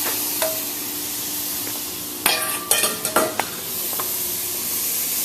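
Butter melting and sizzling in a hot skillet for a cheesy Denver skillet, a steady frying hiss broken midway by a cluster of sharp clinks and scrapes, then settling back to a soft sizzle.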